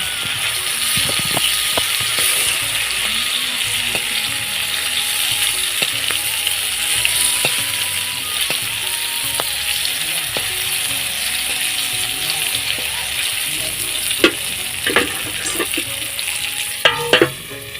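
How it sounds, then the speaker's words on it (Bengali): Slices of pointed gourd (potol bhaja) fry in oil in a home kitchen pan, with a steady close sizzle and repeated scraping and clinking of a spatula as they are turned. "তো চলো পটল ভাজাটা করে নিই।"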